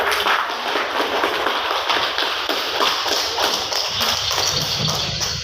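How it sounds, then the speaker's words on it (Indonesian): A class of students claps together during a teaching session, making a dense, continuous patter of hand claps that stays steady and fairly loud throughout, with no voices over it. "Ya, tepuk tangan dulu."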